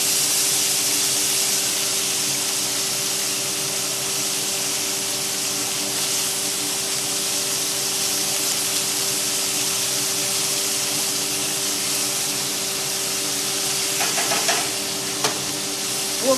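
Peppers, onion and garlic sizzle in seasoned steak oil for a Cajun ribeye, a steady, loud, continuous frying hiss with faint stirring scrapes toward the end and no talking.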